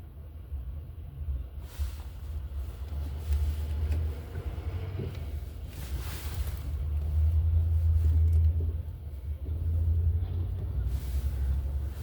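Low rumble of road traffic held at a stop, with engines idling and cars passing nearby. The rumble swells and fades over several seconds.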